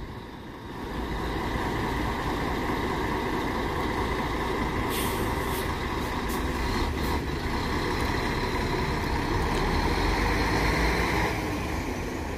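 An Expresso de Prata coach pulling into Barra Funda bus station in São Paulo, with a continuous diesel engine rumble, traffic noise and brief air-brake hisses, heard without talk.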